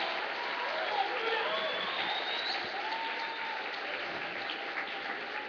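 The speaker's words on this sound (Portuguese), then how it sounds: "Agora você pode aplaudir." A church congregation applauds steadily after a baptism celebration, a sustained roomy wash of many hands clapping at an even level, with voices mixed in beneath.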